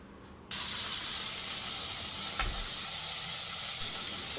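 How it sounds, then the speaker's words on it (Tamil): Chopped tomato sautéing in a pan for chicken keema starts with a sudden steady sizzle that stays loud and even throughout, with one brief stir or clink partway through. "எல்லாத்தையும் ஒரு 2 நிமிஷம் நல்லா வதக்கிக்கலாங்க"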